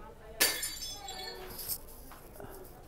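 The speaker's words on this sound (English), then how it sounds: "Breaking glasses like that scares away negative energy." Glass breaks with a sudden sharp crash, then scattered tinkling fragments and a second fainter clink, heard amid a store's background murmur.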